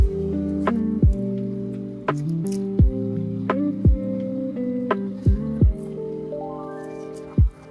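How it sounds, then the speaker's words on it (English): A peeled purple onion being rinsed with water in a miniature kitchen: irregular drips and wet splats land one at a time over a soft trickle, close and quiet. "I wash the onion, friends."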